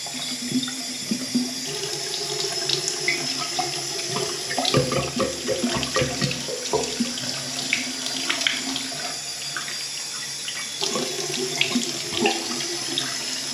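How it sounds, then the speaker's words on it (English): Cold water runs steadily from a tap to rinse out a bong, a continuous splashing rush with shifting gurgles as the stream hits glass, close and alone without talk. "Give it one last run through of some cold water."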